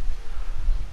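Wind gusting across a beach campsite on the coast, heard as a steady low rumbling buffet against the microphone, loud and close for about a second with no other sounds.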